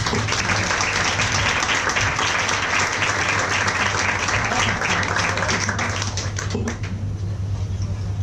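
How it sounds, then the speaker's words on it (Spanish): Sustained applause from a large audience, dense and steady clapping for several seconds that thins slightly near the end. "Un aplauso, por favor."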